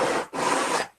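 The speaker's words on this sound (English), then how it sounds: "That sandpaper always sounds a lot rougher over the microphone than it does in real life." Sandpaper, 80 grit, scraping hard glue off plywood: two close, rough rasping strokes, a short one and then a longer one, before the sound stops.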